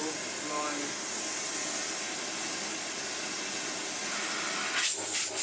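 An Electrolux Excellio Z5045 vacuum cleaner runs with a steady loud motor whine and rushing airflow hiss, a few thumps near the end.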